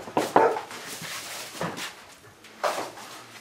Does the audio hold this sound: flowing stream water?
no